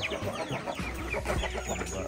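Many chickens cluck and chatter together in a busy, continuous flock chorus, close by, with overlapping calls and no talking.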